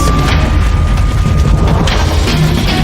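A deep boom at a burning chemical plant rolls out over a loud, sustained roar of fire and crackling, heard close and without speech.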